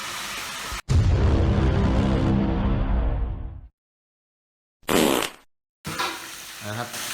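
Loud sizzling of fish dropped into hot oil in a pan, crackling steadily for a few seconds, then silence, followed by short bursts of frying and handling noise.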